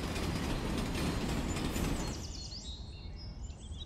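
A train rumbles past loudly for about two seconds, then fades away, leaving faint high squeals and distant bird-like chirps.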